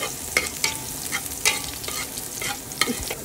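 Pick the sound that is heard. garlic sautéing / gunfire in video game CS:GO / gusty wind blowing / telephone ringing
garlic sautéing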